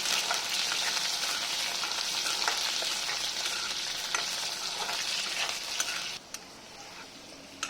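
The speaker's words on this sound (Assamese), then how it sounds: "আলুখিনি মই অকণমান ভাজি ল'ম" Steady, close hiss of potatoes frying in oil with scattered pops and the scrape of stirring, easing off sharply near the end; no voices.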